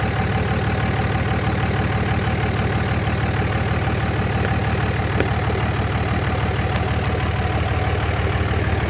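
A Dodge 3/4 ton truck engine runs steadily and loudly throughout, a continuous low rumbling drone close to the microphone with no speech.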